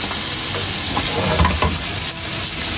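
Mushrooms frying in a pan over a medium-low flame for pizza pocket filling, with a steady loud sizzle and scraping stirs running through the whole stretch, close and continuous with no voices.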